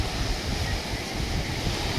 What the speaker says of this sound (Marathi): समुद्राच्या आवाजामुळे तुमचं मन आणखी शांत होईल म्हणून हा लाटांचा आवाज जशाचा तसा ठेवला आहे